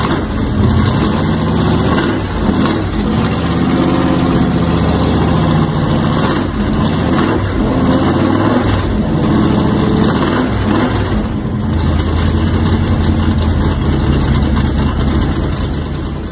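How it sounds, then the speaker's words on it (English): An old engine in a truck called Big Hoss, fitted with a new Holley Avenger carburetor after decades in a museum, runs loud and close with a rough, rumbling idle and occasional surges throughout. "this is the second start with the new Holley Avenger carburetor"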